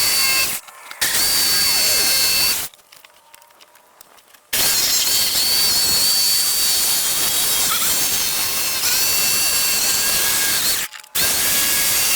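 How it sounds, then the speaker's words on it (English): A power drill whines steadily at high speed, loud and close, stopping briefly a few times before spinning up again, with no talking. "drill me a hole"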